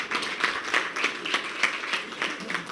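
Small audience at a literary prize ceremony in Ziguinchor applauding the contest's honorary president, a thin, rhythmic patter of a few hands clapping in unison at a moderate distance, without voices.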